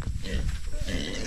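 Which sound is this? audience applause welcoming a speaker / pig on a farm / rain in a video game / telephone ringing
pig on a farm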